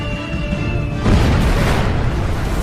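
Thousand-pound bombs dropped by SBD dive bombers blow up fuel and ammo dumps on a wartime island. A steady droning tone gives way to a sudden heavy blast that rolls on as a loud, sustained roaring rumble.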